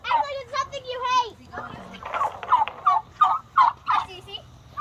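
Turkeys gobbling in a close series of loud, rattling bursts, with children's voices talking and playing between and over the calls.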